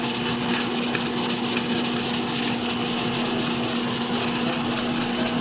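Magic sponge scrubbing soot off a blue one-gallon tumbler jug, a loud, continuous close rubbing hiss that keeps an even pace throughout.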